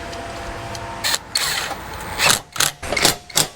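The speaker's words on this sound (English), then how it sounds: "We just need to bolt these two pieces together" Compressor mount pieces are bolted together for a truck suspension build, with close metallic clicks, ratcheting and clanks in short irregular bursts.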